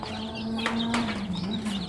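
Chickens cluck softly nearby, a few short calls over a low steady hum, with no talking.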